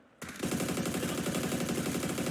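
Rapid, sustained gunfire in a PUBG match, with dense repeated shots close by and loud from a quiet start to the end, and no talk over it.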